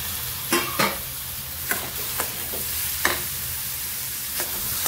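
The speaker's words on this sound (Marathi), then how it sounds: "टोमॅटो सुद्धा छान भाजून घेऊया" Tomato and onions fry in a pan with a steady sizzle, broken by several sharp scraping strokes of a spoon stirring the mixture at uneven intervals, all close and without voices.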